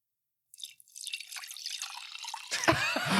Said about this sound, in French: Je me sers juste un petit verre d'eau en ASMR